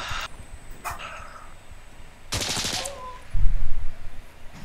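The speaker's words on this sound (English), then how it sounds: "Shotgun time." Shotgun fire in Insurgency Sandstorm, with a few sharp, loud blasts separated by gaps, then a low rumbling thump near the end, with no talk.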